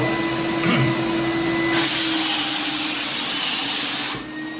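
A Titan Cap Spray 115 HVLP paint sprayer hisses in a loud, steady spray for a few seconds over a background turbine motor drone, then cuts off abruptly.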